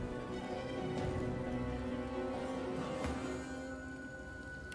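A rain spell cast in Divinity: Original Sin falls as a steady, dense patter of rain on the ground, continuous and fairly soft, with no voices.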